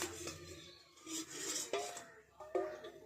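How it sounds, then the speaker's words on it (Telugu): Dried red chillies frying in a spoonful of oil in a pan for a village-style grass sesame chutney, with sharp metallic clinks of a spoon against the pan and a soft sizzle underneath, heard close up. "మిరపకాయలు వేసి కొంచెం నూనె వేస్తున్నా"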